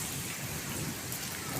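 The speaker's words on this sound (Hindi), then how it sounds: "सही अच्छी खासी मूसलाधार बारिश हो रही है, ओले भी पड़े हैं और हवा भी साथ चल रही है।" Heavy downpour in Lahore with hail and wind, a dense, steady roar of rain hitting surfaces close by, continuous and loud with no voices over it.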